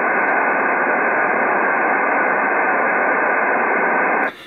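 Steady hiss of HF radio band noise at an S9 level on 1974 kHz, a loud, even, unbroken static rush that holds unchanged until it drops abruptly at the end.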